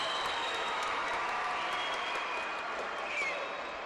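A crowd at a judo or wrestling final between Uzbekistan and Azerbaijan breaks into broad, steady applause and cheering, a dense roar of clapping filling the arena with no clear voices on top.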